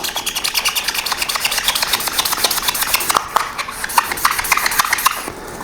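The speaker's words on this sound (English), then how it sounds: "I will use a magic eraser. I will go through the process of cleaning these off." Magic eraser scrubbing sprayed laser-made matchboxes clean, a steady rapid rubbing rasp repeating close up throughout, with no talk.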